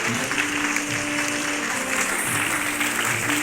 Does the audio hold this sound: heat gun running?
no